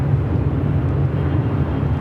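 A Japan Airlines Boeing 787 Dreamliner at LAX gives off a steady, broad jet roar with a deep low rumble. It holds constant and moderately loud throughout, with no voices.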